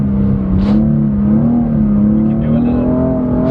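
A BMW driven on a track at a driving school, the engine droning steadily and loud as the throttle is picked up into a drift, its pitch slowly rising and falling with no voices over it.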